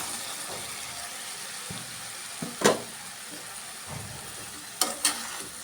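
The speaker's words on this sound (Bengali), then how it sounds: "আলু বেগুনটি মশলার সাথে একটু কষিয়ে নেব" Potato and eggplant pieces frying with spices in a pan, a steady soft sizzle broken by a few sharp scraping stirs of a spoon, close and alone with no voices.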